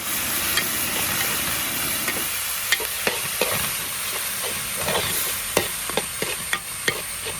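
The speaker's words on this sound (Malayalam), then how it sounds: "ഈ തക്കാളി കൂടെ ഇതിൻ്റെ അകത്തോട്ട് ഇട്ട് കൊടുക്കാം വഴലാൻ വേണ്ടി നല്ലപോലെ ഒന്ന് ഇളക്കി കൊടുക്കാം" Tomatoes and onions sauté in a pan with a steady, loud sizzle, while a spoon stirs and knocks against the pan in scattered sharp taps, close and without talk.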